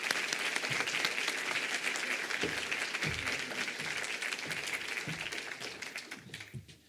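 An audience at a Stanford Dean's Lecture Series event applauds to welcome Dr. Richard Besser, CEO of the Robert Wood Johnson Foundation, with steady dense clapping that holds for several seconds and then thins out near the end.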